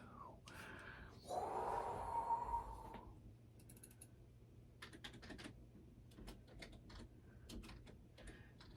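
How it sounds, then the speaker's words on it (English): Typing on a computer keyboard, quick irregular bursts of key clicks at close range, preceded by a louder rustling sound, with no talk. "You're just going to have to try to see what I'm typing."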